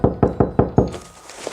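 Five quick, heavy knocks land on a bedroom door in an even rhythm, loud and close, then fade into a quiet room.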